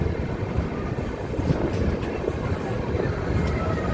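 Tambaram Express rolls along the rails near Karaikudi junction, a steady close rumble of wheels and carriage noise running without break, with no voices.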